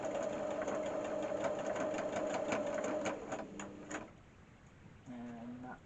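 Domestic sewing machine stitching a Dresden quilt finish with the bobbin misbehaving: a rapid rhythmic clatter of stitches for about three seconds, then a few slower knocks, a pause, and a brief whirr, fairly quiet and close.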